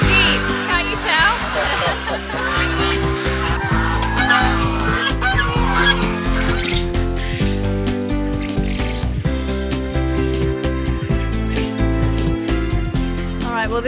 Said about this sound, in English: They're geese, can't you tell?